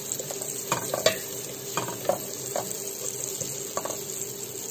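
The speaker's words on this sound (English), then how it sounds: "having placed our pan on the fire, we put this little margarine." Margarine sizzles softly in a pan set over a fire, a low steady frying hiss broken by a few scraping stirs, quiet and close with no talking.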